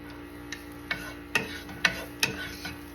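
Garlic being browned in a hot pan gives a soft background sizzle, broken by a handful of distinct spoon taps and scrapes spaced about half a second apart, close and quiet with no speech.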